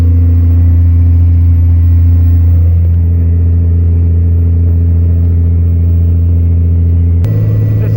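Loud, steady low engine drone of a pickup truck towing a load up a long grade at quarter throttle, holding constant, with a brief shift in tone near the end.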